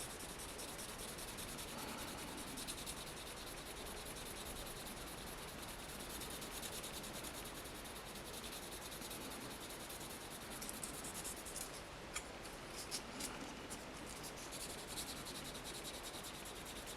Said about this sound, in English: So I'm starting off with 5000 sandpaper.